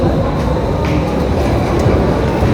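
Rumbling train noise at an underground railway station in Switzerland, a steady loud roar of rail traffic and station ambience, with no clear talk.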